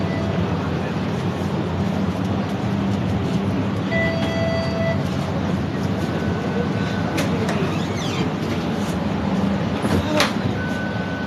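An air-conditioned tram rolls through Toronto on Canada Day, with a steady low rumble of wheels and motor filling the cabin, faint squeals and clicks, and muffled voices of passengers in the background.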